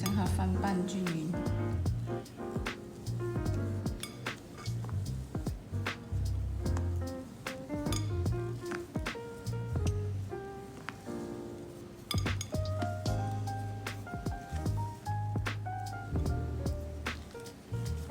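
Utensils clink and scrape repeatedly against a bowl while angel cake batter is folded into whipped egg whites, with a voice speaking over the irregular clatter throughout.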